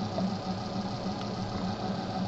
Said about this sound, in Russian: Мотор вращается со скоростью